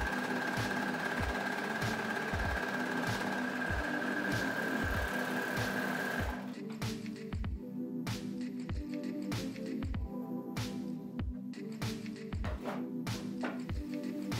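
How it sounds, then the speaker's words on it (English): An overlocker sews a seam on viscose challis skirt fabric, running steadily with a rapid, even mechanical chatter for the whole stretch; a high whine fades partway through while the stitching rhythm continues. "I'm just going to overlock that seam"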